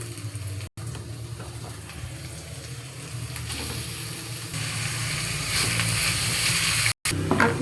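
Ground pork frying in a pan with white onion and garlic, a continuous sizzle with scraping and stirring clatter that slowly grows louder, broken by two sudden short cuts to silence.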